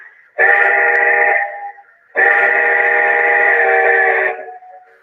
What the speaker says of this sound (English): Let me cycle through the 5 different whistles we have on this guy as well.